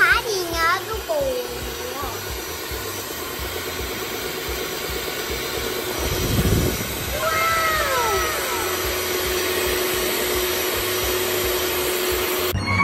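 An electric mixer beats chocolate cake batter with a steady, close motor whine that runs for most of the clip, with a voice heard briefly near the start and again partway through.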